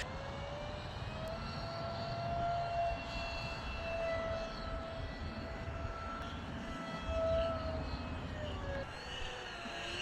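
A small SCAMP mini parkjet RC plane flying on low throttle, a thin steady electric motor whine drifting slightly in pitch against faint outdoor noise, distant and quiet.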